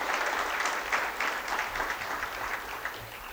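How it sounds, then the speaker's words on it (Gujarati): An audience at a live tree-planting awareness event claps to welcome a guest, a moderately loud, busy patter of many hands that continues evenly throughout. "એવા વિનોદભાઈને જોરદાર તાળીથી વધારે."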